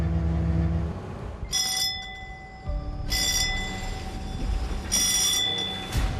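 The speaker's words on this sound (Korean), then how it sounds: "종이 울리면 잠깐의 휴식도 사라집니다." A bell rings aboard an anchovy fishing boat at sea, three or four sharp metallic bursts spaced about a second and a half apart over a steady low engine rumble.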